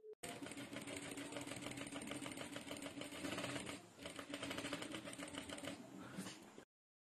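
A sewing machine stitches along the square neckline of a kurti, running loud and steady with a dense rapid needle rhythm that barely slows for a brief pause midway, and no talking.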